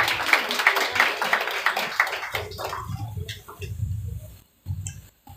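Clapping from a wedding church congregation fills the first half, a dense patter of many hands that thins out and gives way to low voices and a pause near the end.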